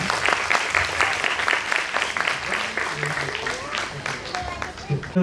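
Audience at a school annual day function breaks into sustained applause, a dense wash of many hands clapping at steady loudness, with voices mixed underneath.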